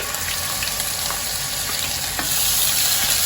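Ground masala paste goes into hot oil with asafoetida in a pan on a medium flame for a spicy village-style prawn curry, making a loud, steady, close sizzle that swells slightly near the end, with no talking.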